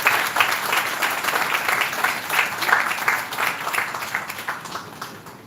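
Sustained audience applause at a bioethics conference session, a dense steady patter of many hands clapping throughout, fairly loud and close, with no talk over it.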